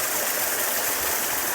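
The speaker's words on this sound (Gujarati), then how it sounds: "સરસ મજાનો ધોધ અહીંયા પડે છે" A waterfall at Jatashankar in the Girnar forest pours with a steady, close rushing hiss that is loud and unbroken throughout, with no voices.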